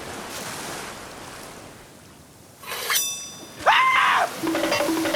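Ocean waves washing onto a beach, a steady broad rush of surf that swells louder toward the end, overlaid by brief tonal sounds.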